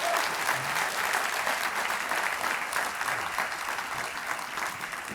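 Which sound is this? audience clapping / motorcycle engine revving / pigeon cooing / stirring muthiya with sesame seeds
audience clapping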